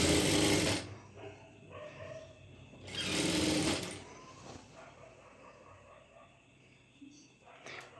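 A sewing machine top stitching a lining, running in two short close bursts of rapid stitching separated by quieter pauses, with soft speech in between.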